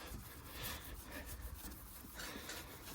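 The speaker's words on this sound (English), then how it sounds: "it's steel wool that's doing this" Steel wool soaked in WD-40 scrubbed over rusty chrome on a 1968 Case 155 garden tractor, a steady close rasping scrub that runs without a break.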